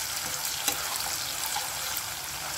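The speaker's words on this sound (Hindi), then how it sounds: "प्याज को हमें ज़्यादा डार्क नहीं करना है, बस इसका कलर हमें हल्का सा चेंज करना है। इतनी देर हम इसे फ्राई करेंगे" Onions fry in a pan with a steady, close, even sizzle and faint crackle, with no talk over it.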